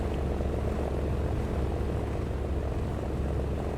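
A propeller fighter's engine drones steadily and loudly throughout, a constant unbroken roar during World War II air combat in War Thunder, near a Ki-61 and a Yak.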